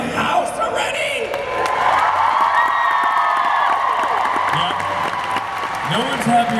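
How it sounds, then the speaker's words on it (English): Convention crowd at PittCon 2016 applauding and cheering, a dense steady wash of clapping with whoops and shouts rising over it, loud and close, with voices mixed in. "Can we give a big, exciting round of applause for R2 in the damn house already?"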